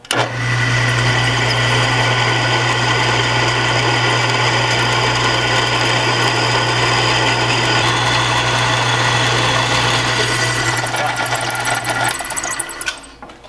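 Drill bit boring a hole in metal during a cutting lubricant test, a loud steady motor whine with a constant hum that runs for about twelve seconds before spinning down, no talking.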